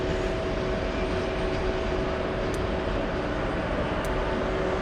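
A Virgin Airbus A330neo at the airport, a steady broadband jet roar with a faint sustained tone, heard from a distance through the whole clip with a couple of brief higher clicks.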